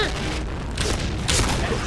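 Video game explosions go off as a couple of dull booms in quick succession over a dense, continuous layer of game noise, with a voice faintly present.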